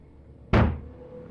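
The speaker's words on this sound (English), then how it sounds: "As the door keeps rattling, he finally slides down to the floor." One sharp, heavy blow lands against a door that is being pounded from outside in a spooky story scene, then fades quickly into a quiet low hum.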